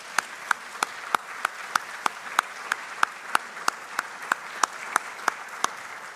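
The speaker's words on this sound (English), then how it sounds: "would you just express your appreciation to these volunteers with a round of applause?" A church congregation claps for its Vacation Bible School volunteers, the sharp claps landing in an even, steady rhythm, each one distinct against a quiet background.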